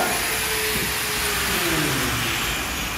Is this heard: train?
no